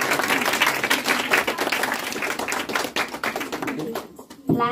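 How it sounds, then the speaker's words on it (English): An audience at a time-management talk gives a round of applause, many hands clapping loud and close, thinning out near the end before a voice cuts in. "Please give a big round of applause."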